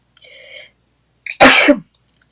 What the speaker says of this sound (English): sorry, guys, sneeze.